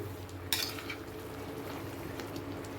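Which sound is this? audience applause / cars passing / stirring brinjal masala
stirring brinjal masala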